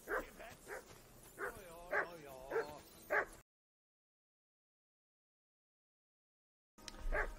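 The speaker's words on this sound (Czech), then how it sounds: "To štěkání se nedalo vydržet." A dog in Kingdom Come Deliverance 2 barks in a quick series of sharp, close yaps, then falls completely silent before one more burst starts at the end.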